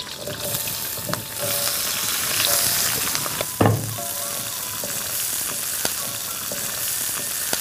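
Onions and green chillies fry in a pan, a steady close sizzle running throughout with occasional stirring scrapes and a louder spatter burst midway; no one speaks.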